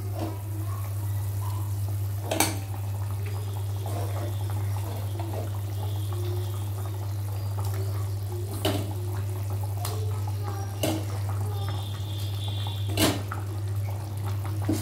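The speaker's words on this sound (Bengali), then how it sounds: "ফুটে উঠেছে, এবারে কিন্তু একে একে যে মাছগুলো আমি দিয়ে দিচ্ছি।" Pieces of ar fish dropped one at a time into boiling curry gravy, giving a few soft splashes over steady bubbling and a constant low hum, with no talking.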